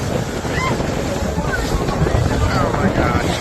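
Strong wind buffets a boat out on San Francisco Bay, a steady loud roar of gusts and water rush against the microphone, while someone talks now and then.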